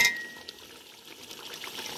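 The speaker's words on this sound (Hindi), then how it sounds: "इसको अब हमने भूनना है" Chicken pulao fries in a pot, giving a soft sizzle mixed with stirring scrapes and light clinks of a utensil against metal, steady and close with no voices.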